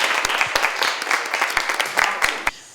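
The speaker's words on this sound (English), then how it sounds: "That really deserves a round of applause." An audience applauds with a burst of dense clapping, irregular sharp claps layered over a steady wash of hand noise that fades out at the end.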